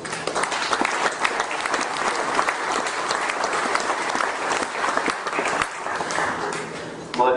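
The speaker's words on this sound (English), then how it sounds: "everybody involved deserves a round of applause" Sustained audience applause fills the arena at the 2011 Minnesota State Show cattle exhibition, a dense steady wash of clapping that holds for several seconds before a brief louder burst at the end.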